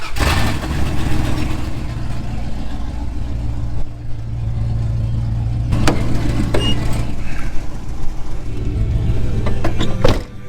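A vehicle on its way to a scrapyard rumbles loudly with a steady low engine drone, swelling as it accelerates, with occasional rattles and knocks from the ride, near and continuous.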